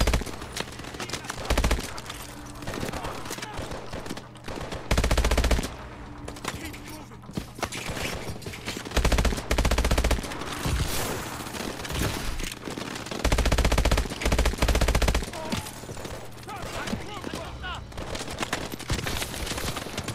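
Rapid automatic gunfire in the video game Call of Duty: Advanced Warfare. Bursts of shots repeat with short gaps between them, loud and close, mixed with game sounds and a player talking.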